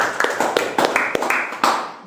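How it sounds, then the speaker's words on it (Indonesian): Classroom applause for a student group: several bursts of hand clapping from a small crowd, uneven and close, with brief taps between claps. "berikan tepuk tangan untuk kelompok 3"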